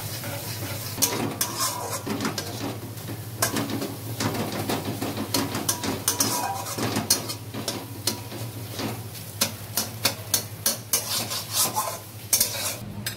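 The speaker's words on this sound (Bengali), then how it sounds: "এবার ওই তেলেই দুটো ডিম দেখো ভালো করে ফেটিয়ে নিয়েছি, ফেটিয়ে দিয়ে দিলাম" Beaten eggs fry in oil for egg fried rice amid a steady sizzle, with frequent sharp clicks and scrapes of a spatula against the pan and a low continuous hum beneath, close-up and without speech.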